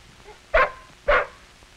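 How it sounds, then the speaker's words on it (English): A dog gives two sharp, fairly close barks about half a second apart, each brief and loud against a quiet background. "The dog may be unfriendly."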